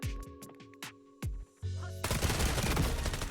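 Gunfire in the video game FragPunk, a few sharp single shots with short gaps, then a sudden loud burst of dense noise, heard up close.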